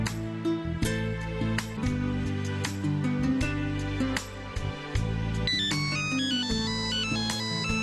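A phone ringtone plays a bright repeating electronic melody, loud and close, sounding steadily for the whole stretch with no talk over it.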